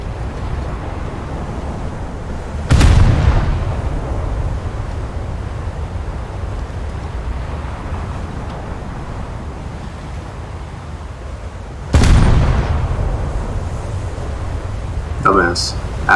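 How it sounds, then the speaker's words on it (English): Heavy naval gunfire from the cruiser Northampton in a naval battle game, two deep booming salvos about nine seconds apart, each a sudden loud blast that fades slowly over a steady rushing bed of sea and wind noise. "Northampton is shooting the carrier"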